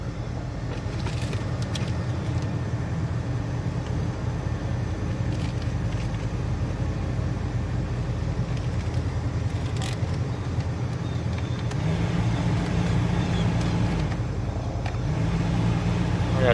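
Air from the dashboard A/C vents of a second-generation vehicle rushes steadily and evenly, with a low, continuous broadband whoosh that holds for the full stretch and swells slightly near the end.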